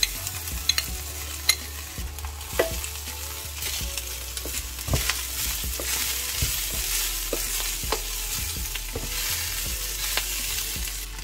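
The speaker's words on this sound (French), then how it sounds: "Maintenant, je vais verser la farce." Filling hits a hot pan and sizzles steadily and loudly while a utensil stirs it, making repeated scraping clicks close up over the continuous frying hiss, with no talk.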